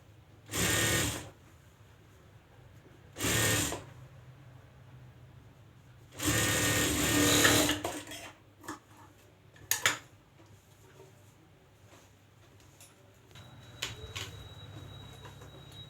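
A sewing machine stitches a folded fabric strip in three short bursts followed by a longer run, each with a fast mechanical whir, separated by quiet gaps with a few small clicks and handling noises.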